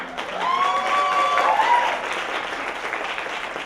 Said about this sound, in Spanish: Un aplauso, por favor, para Blanca.